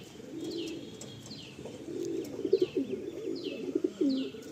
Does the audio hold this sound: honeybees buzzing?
no